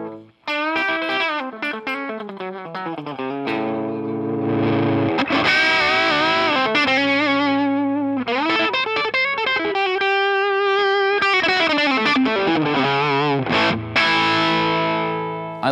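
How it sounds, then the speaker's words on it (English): A Gibson Les Paul Junior electric guitar plays through distortion with chorus-like effects, chords and bends sustained over a long stretch while the volume knob sweeps the level up and down, loud and continuous with brief dips. "this audio taper pot is fantastic because you hear from zero all the way to 10"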